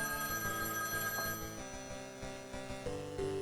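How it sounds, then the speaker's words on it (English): A payphone rings with a steady electronic ringing tone, fairly faint, heard against a busy room background. "Payphone's ringing."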